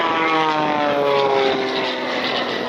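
A propeller aerobatic airplane flies maneuvers at an air show, its engine droning loud and close with a steady, slowly shifting pitch.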